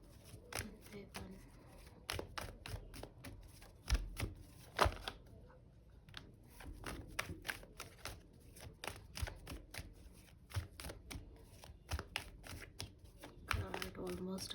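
Tarot cards being shuffled by hand make rapid, crisp flicks and snaps in irregular bursts with brief pauses, heard close but fairly quiet.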